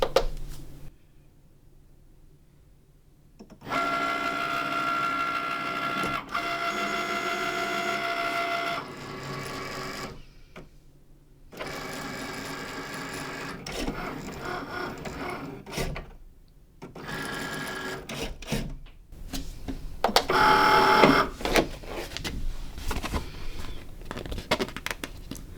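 A Cricut cutting machine works through a sheet of printable vinyl in a print-then-cut job, whirring and buzzing in several bursts of carriage movement separated by brief quiet pauses, with a sharper high-pitched passage near the end.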